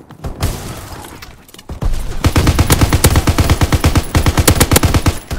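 Gunfire from the Call of Duty WWII video game crackles in a sparse opening shot, then rapid sustained automatic bursts of loud, close repeated reports.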